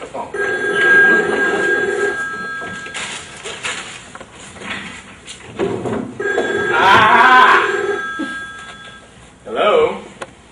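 A telephone rings in an apartment, its electronic ringer sounding in repeated bursts across the clip, fairly loud and close, with background voices and television-like sound mixed around it.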